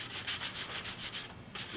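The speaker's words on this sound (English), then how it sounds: "I'm not really hitting very much, not sanding very much" Sanding filler on a model airplane's control surface: light, rhythmic back-and-forth rubbing strokes, close and quiet, about a dozen short passes with no talking.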